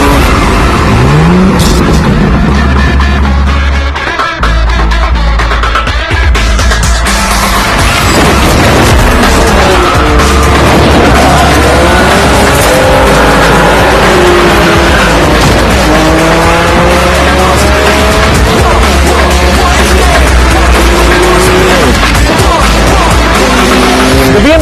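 A BMW M4 Competition revs and accelerates hard, engine pitch climbing through repeated gear changes, with tires squealing and loud exhaust throughout.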